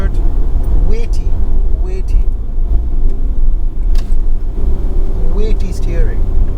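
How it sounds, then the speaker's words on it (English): A 2021 Porsche Panamera V6 driven hard on a race track, its engine a steady loud rumble throughout with brief higher tyre or engine tones, while a person talks over it. "We're pushing that Panamera as hard as we can."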